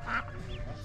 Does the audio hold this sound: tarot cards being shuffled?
no